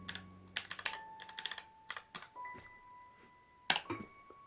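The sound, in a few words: typing on a keyboard connected to an Android TV box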